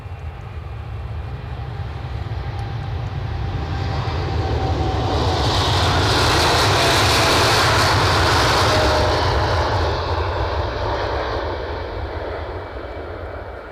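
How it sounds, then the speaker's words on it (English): A WestJet jet departs Edinburgh Airport with a loud, sustained engine roar that swells toward the middle and then slowly fades, steady and close throughout with no talking. "WestJet scooting out at pace."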